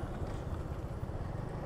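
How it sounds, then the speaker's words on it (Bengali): A motorbike engine idles in a Jatrabari traffic jam at night, a close, low, steady rumble that lasts briefly. "motor bike"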